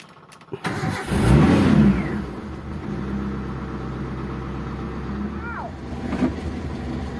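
Daihatsu Zebra Espass car engine cranks and starts close by, a loud surge settling into a steady mid-range idle with a brief rev near the end.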